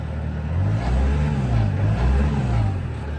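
A 2020 Bobcat T-590 skid steer idles and revs steadily outdoors, its deep diesel drone swelling and easing in rhythmic surges, loud and close with no talk.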